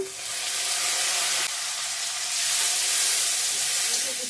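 Dried fish drop into hot oil already tempered with bay leaf, dried red chilli, panch phoron and chopped ginger, setting off a steady hissing sizzle that swells and stays bright throughout.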